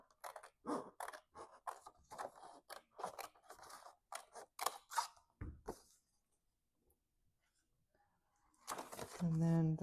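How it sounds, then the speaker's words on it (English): Scissors snip through paper for a junk journal in a quick run of close, crisp cuts, with a person talking between them and a brief pause near the end. "Let's just cut this."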